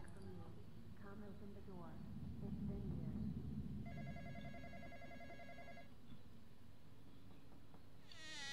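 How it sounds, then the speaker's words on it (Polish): A telephone rings repeatedly in the Roblox horror game The Intruder, a steady electronic ring at moderate volume with game ambience, while a player talks quietly over it. "Jeszcze telefon na złość dzwoni!"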